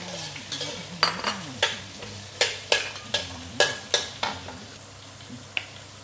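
Asparagus stir-fried in a wok over moderate heat, soft sizzling broken by regular scraping strokes of a spatula against the pan, close and clear over a quiet musical backing.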